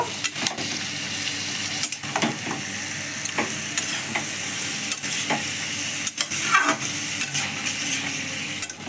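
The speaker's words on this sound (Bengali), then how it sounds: "মাংসটা আমি ভালো করে কষিয়ে নেব।" Spiced chicken meat frying in a pan, a steady sizzle broken by clinks and scrapes of a spoon stirring, with occasional louder sputters and no talking.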